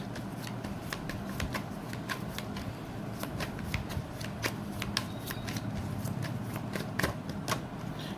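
Tarot cards riffled and shuffled by hand in a steady, close run of papery flutters and quick taps, with no one talking over them.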